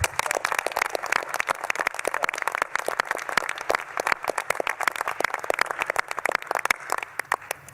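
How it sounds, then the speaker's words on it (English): Sustained audience applause fills the Saturn V Hall at the U.S. Space and Rocket Center in Huntsville, Alabama, a dense, even patter of many hands clapping steadily throughout with no talking. "Would you give our hosts another round of applause this time?"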